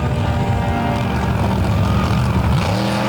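Loud, close engine roar and rumble as pit crew work to get the Colossus monster truck running at a Chattanooga arena show, a continuous rough growl with fluctuating revs.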